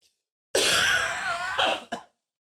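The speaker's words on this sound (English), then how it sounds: "I've been trying not to cough all over." A loud, rasping cough fills the air up close, followed by two shorter hacking bursts before it goes quiet.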